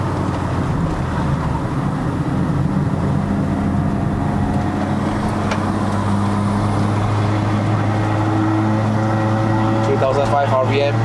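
A Perodua Bezza with a 1.3-litre bolt-on turbo engine labours up the Genting hill road, a steady loud engine drone with faint road and wind noise inside the car.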